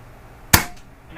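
Single shot from an Umarex Zelos .22 air rifle firing a pellet, one sharp close crack that decays quickly into quiet.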